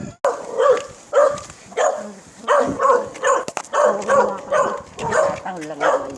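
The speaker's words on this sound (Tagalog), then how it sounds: "Tahol lang naman." A dog barks repeatedly in a neighborhood street, with loud, close, evenly spaced barks that continue without pause throughout.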